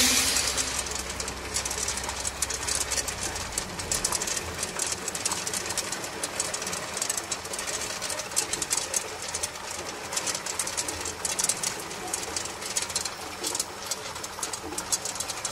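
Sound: flooded refrigeration cube ice machine running

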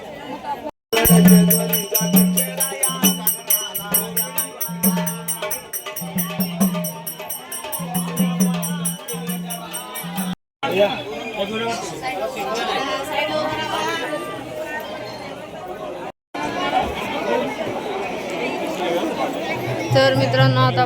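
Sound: crowd chatter at Jejuri temple fort

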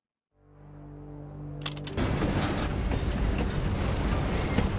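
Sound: train running around track in RAILGRADE video game

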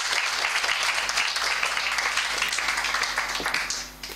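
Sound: applause and acclamations

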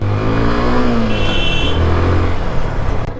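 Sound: second-hand motorcycle engine revving

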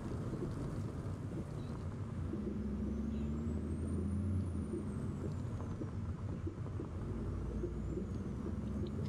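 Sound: truck tyre sounds in Euro Truck Simulator 2 video game

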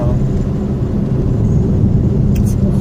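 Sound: car driving over a bumpy, potholed road

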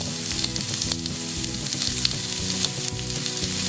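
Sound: thin beef steak sizzling in pan

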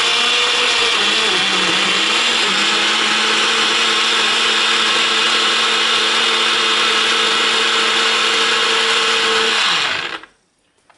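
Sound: Nutribullet blender blending tomato sauce

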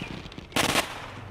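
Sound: shotgun fired into the air, Walking Dead Saints & Sinners video game

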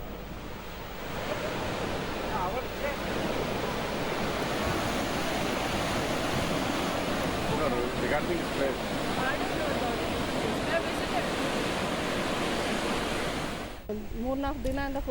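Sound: Gaganachukki waterfall in full flow

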